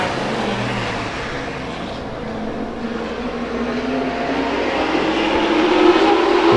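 Late model race cars roar through a heat race on an oval track, a broad continuous engine rumble that swells gradually louder toward the end as the pack picks up speed.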